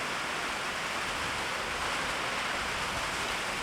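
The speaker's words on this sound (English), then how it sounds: "sorry about the audio because, Kentucky and rain again." Steady rain hisses in Kentucky as a dense, unbroken wash of broadband noise, constant and fairly loud throughout with no distinct drops or voices.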